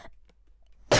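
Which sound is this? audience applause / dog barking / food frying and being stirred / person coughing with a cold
person coughing with a cold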